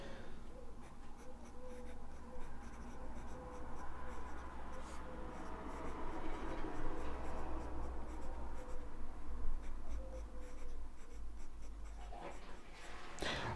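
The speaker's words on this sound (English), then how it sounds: "let's get straight into the writing sample now on my Rhodia pad" A Faber-Castell Fresh fountain pen with a medium nib writing on a Rhodia pad, with a soft continuous scratch of nib on paper and quiet strokes and pauses, close and faint.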